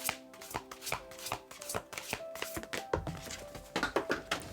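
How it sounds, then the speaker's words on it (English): A deck of cards shuffled over and over, rapid papery riffles and taps in uneven bursts, close and fairly loud with no voices. "Not usually that bad at shuffling."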